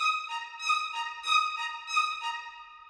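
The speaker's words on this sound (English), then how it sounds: "So the first violins sound like this." First violins playing spiccato, short bouncing detached notes in a steady pulsing rhythm, bright and clear with no voices.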